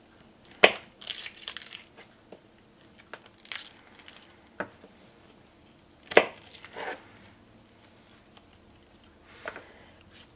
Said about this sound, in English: get a couple of these garlic cloves off of here, off the head